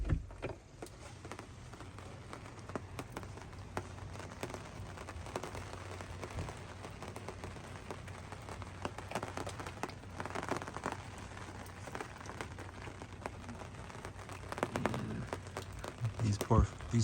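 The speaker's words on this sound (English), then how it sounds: "we're just hunkered down and waiting out the rain" Rain falls steadily at a campsite in Yellowstone National Park, a dense patter of drops on a surface that runs throughout with a few sharper ticks and bumps near the end.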